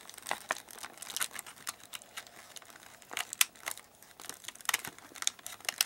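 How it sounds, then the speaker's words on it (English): Plastic wrapping from a Leonardo toy crinkles and crackles as it is handled, a quiet, irregular run of sharp rustles close by with no one speaking. "I'll wrap the plastic thing"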